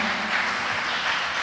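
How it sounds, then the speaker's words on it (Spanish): A church congregation applauding during a sermon, a short, even wash of dense clapping with no voices standing out. "Denle un aplauso al Señor."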